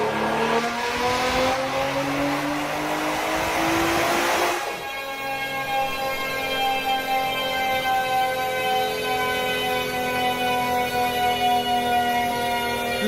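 A Nissan R35 GTR in a racing video game revs hard, its engine note climbing steeply for several seconds, then holding a loud, steady high-pitched roar.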